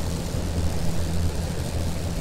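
Airship engines running at full power in the video game Worlds Adrift, a steady, loud propeller-like drone with a deep, even hum that holds unbroken throughout, with no talking.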